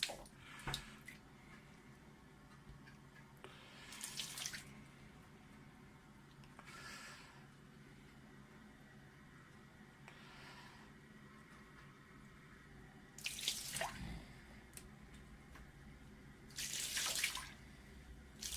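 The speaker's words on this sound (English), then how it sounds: "Let me just apply a little more water." Lukewarm water poured or dabbed onto the 12-inch mirror of a SkyWatcher 300P Flextube Dobsonian telescope during cleaning, heard as a few short, soft splashing bursts spaced apart over a quiet background.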